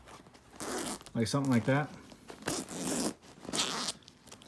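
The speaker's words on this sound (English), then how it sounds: "These zippers are really close to each other, so when I open this one up," Backpack zippers opened and closed, the comparison covering Nomatic and Peak Design packs; a brief close zipping rasp sits between stretches of someone talking.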